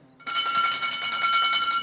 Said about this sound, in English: the bell now for Ash Hart and Kiwi Bonanza